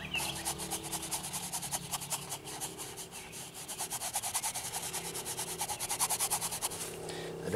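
A paintbrush scrubs a thin base coat of paint onto the wax part of a candle, giving a steady, close, rhythmic rubbing and scratching that runs throughout with no talk.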